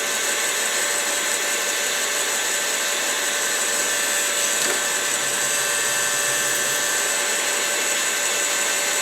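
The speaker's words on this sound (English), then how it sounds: "Just want to be sure that you keep the heat gun moving." A heat gun blows steadily on wood to loosen a glued paper pattern, giving a constant whooshing hiss with a faint whine. It holds at an even level throughout with no talking.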